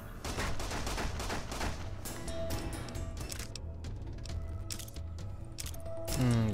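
Gunfire in the video game Fallout: New Vegas, quick bursts of shots cracking in rapid clusters at moderate volume, thinning out toward the end.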